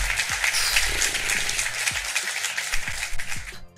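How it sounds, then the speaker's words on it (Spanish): A burst of applause, many hands clapping densely and steadily, fairly loud, fading slightly before a sharp clap at the end. "Escucho aplausos, no sé de dónde"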